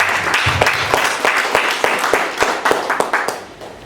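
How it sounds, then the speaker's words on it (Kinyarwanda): Close, loud audience clapping in a hall at a UNESCO event, individual hand claps falling in a fairly regular beat over a continuous bed of crowd applause. "twaha Imana amashyi ku byo yakoze"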